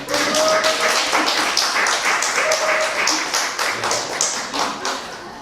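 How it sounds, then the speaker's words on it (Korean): A church congregation on Children's Sunday breaks into loud, sustained applause to welcome the children, a dense patter of many hands close by, with a few voices rising through it. "우리는 그들을 박수로 환영할 것입니다"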